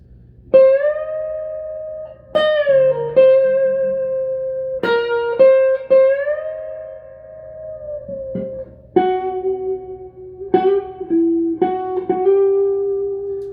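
An overdriven electric guitar plays a slow riff, sustained notes with step-and-a-half bends rising and settling, loud and close with a buzzy edge and no talking.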